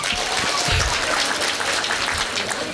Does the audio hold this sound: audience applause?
yes